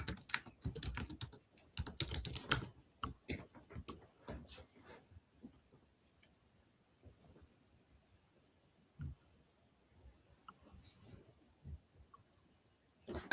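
Computer keyboard typing in a quiet room, a dense burst of quick clicking keystrokes at first, then thinning to sparse, faint taps and isolated key presses, with no talking.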